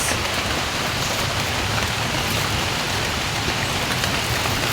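Steady, dense rain falls on an outdoor surface during mushroom foraging, a loud continuous hiss with no pauses and no talk.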